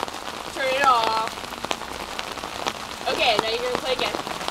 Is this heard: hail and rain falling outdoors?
yes